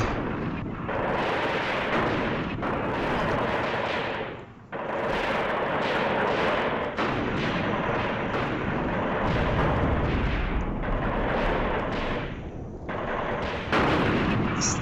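Tank battle in the Graviteam Tactics war game, with a dense run of loud cannon shots and booming explosions firing one after another over a constant rumble, with no talking.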